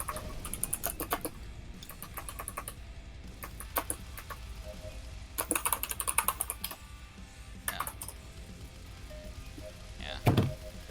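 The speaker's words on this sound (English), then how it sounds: "Your typing could kill, man." Typing on a computer keyboard picked up by a microphone during an online voice chat, with bursts of rapid clicking keystrokes separated by pauses, fairly close and under a steady low background hum.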